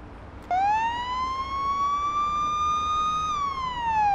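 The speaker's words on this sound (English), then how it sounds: "There's your siren." A police car siren in the Police Simulator video game switches on with a sharp start and holds a loud, steady wail that rises slightly, then dips in pitch near the end, with no talking.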